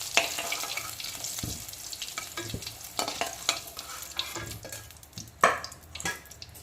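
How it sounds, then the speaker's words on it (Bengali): Potatoes fry light brown in hot oil for a village-style country chicken curry, a steady close sizzle broken by scrapes and clinks as they are turned and lifted out, with one louder clatter near the end. "আলুগুলো কিন্তু হালকা বাদামি কালার করে ভেজে নিয়েছি, খুব সুন্দর করে উল্টে পাল্টে।"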